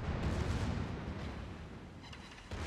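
Battleship secondary guns firing in the naval combat game World of Warships: rumbling, booming gunfire blasts rolling together at the start, fading through the middle, with another burst at the end, no talk.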